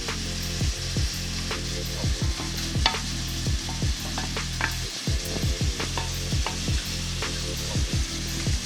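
Corn maque choux sizzles and fries in a pan over rising heat, with a steady hiss broken by repeated stirring scrapes close by.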